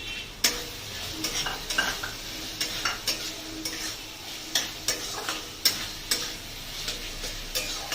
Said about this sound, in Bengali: একটু কিছুক্ষণ এটাকে কষিয়ে নেবো টমেটো দেওয়ার পরে